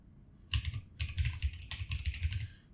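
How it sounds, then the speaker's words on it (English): A computer keyboard rattles with rapid, close keystrokes as names are entered into an Android app form, arriving in three quick bursts with brief pauses between them. "now let's type the first name, the second name,"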